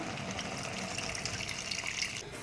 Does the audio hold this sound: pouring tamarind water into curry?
yes